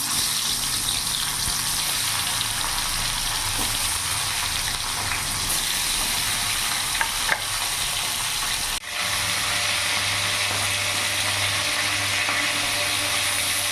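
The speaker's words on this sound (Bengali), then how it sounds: "এবার এক এক করে আমি মাছগুলো দিয়ে দেবো" Small fish fry in hot mustard oil, making a dense, even sizzle that carries on for the whole stretch, close and moderately loud, with a brief dip near the end.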